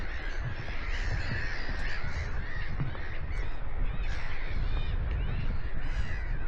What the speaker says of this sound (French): Oh, les mouettes!